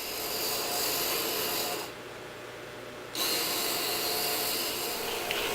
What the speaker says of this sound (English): File evenly across the two edges with the Arkansas